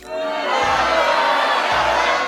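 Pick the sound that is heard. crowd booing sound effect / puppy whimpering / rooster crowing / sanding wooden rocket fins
crowd booing sound effect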